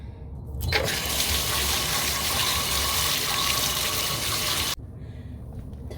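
Tap water gushing steadily for several seconds to rinse hair, loud and close, then shutting off abruptly, with no talking.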